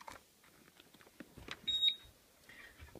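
A short electronic beep rings out as a Turnigy 6 battery charger on a 12-volt supply powers up, amid faint clicking and handling noises, brief and fairly close, followed by quieter rustling.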